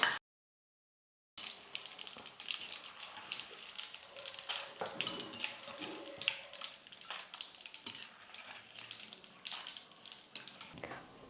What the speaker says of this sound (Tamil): மீதி இருக்கிற வாழைக்காயும் எண்ணெயில் போட்டு நம்ம ஃப்ரை பண்ணிக்கலாம்